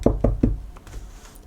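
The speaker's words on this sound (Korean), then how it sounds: "나는 주먹으로 문을 두드렸다." A fist knocks on a door three times in quick succession, the thuds loud, dull and close, followed by quiet room tone.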